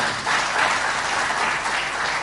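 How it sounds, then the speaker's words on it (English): Steady applause from a crowd at a formal speech by the IGAD Executive Secretary, dense and continuous, with no voices over it. "Please join me hands in again clapping for the Executive Secretary and thanking him."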